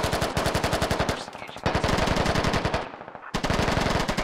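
Sustained automatic gunfire in the video game Squad, loud and close, with rapid rhythmic bursts broken by two short pauses before firing resumes; no talk.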